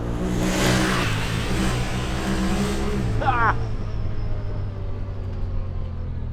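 Honda Talon 1000R-4 side-by-side engine revving and accelerating hard, a loud close roar that climbs, then settles into a steady engine drone, with a rising whine midway.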